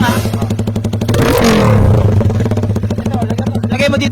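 A Raider 150 motorcycle fitted with an open pipe exhaust revs at half throttle. It gives a loud, close, rapid popping drone that surges up once in the middle and then settles back to a fast, steady idle-like rattle.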